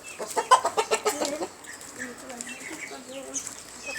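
Several chickens cluck in a quick burst of close, rhythmic calls, then softer scattered clucks and murmurs follow.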